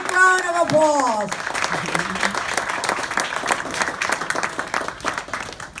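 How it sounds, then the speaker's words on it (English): At a campaign celebration for a state House candidate, a voice speaks briefly, then the gathered crowd breaks into sustained applause, a dense patter of many hands that continues for several seconds. "give her a big round of applause"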